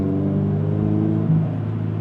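Toyota 86 engine pulling in fourth gear at around 2,500 RPM at about 35 mph, a steady droning hum with clear engine tones heard from inside the car, no talk.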